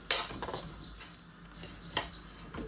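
Rice dry-roasting in a pot for a nine-grain porridge flour gets stirred continuously, giving a steady run of scraping and light metallic clinks of the spoon against the pot, close and moderately loud with no talk.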